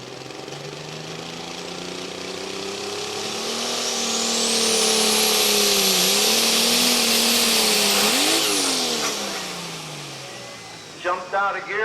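A 1066 tractor at a truck and tractor pull roars loudly under a heavy pull, its engine note rising and bending as the load shifts, with a high whine swelling in the middle before it cuts back. Brief crowd or announcer sounds follow at the end.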